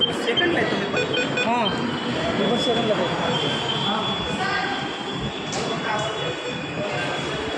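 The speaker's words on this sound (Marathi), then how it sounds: "मेट्रोन चालू आहे." PCMC metro train running, a steady broad rumble and rush that fills the whole stretch, with people talking over it throughout.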